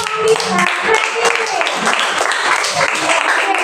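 Group applause after a presenting group finishes in a classroom coaching session, a dense patter of many hands, steady and fairly loud throughout.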